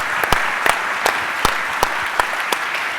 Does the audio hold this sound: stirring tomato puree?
no